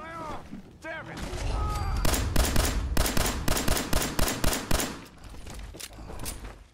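Rapid bursts of automatic gunfire from the video game Fallout 4 crack out in quick repeated volleys, loud and close, mixed with a few short in-game tones and thumps.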